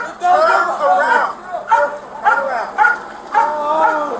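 Police K-9 dog barking and yelping in short excited bursts during a takedown, close and loud, with officers shouting over it.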